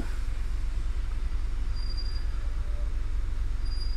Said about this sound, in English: and we can hear a tram coming up.